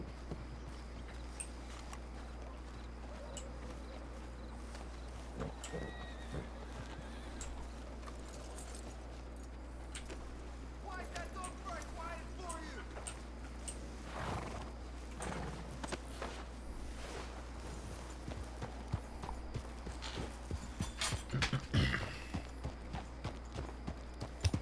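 A horse clip-clops along at a walk in a Red Dead roleplay game, its hooves faint and steady over a low hum, with a few louder thumps near the end.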